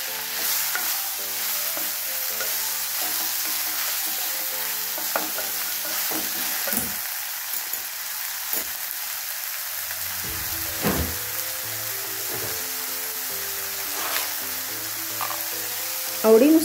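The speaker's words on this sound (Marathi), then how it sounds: "आता यामध्ये कट करून ठेवलेले दोडके पण आता यामध्ये आपण टाकून घेऊ। तर याला चांगलं मिक्स करून घेऊया।" Chopped ridge gourd fries and sizzles in a pan for a Maharashtrian dodka bhaji, with a steady crackling hiss and intermittent spoon scrapes and stirring clatter close by.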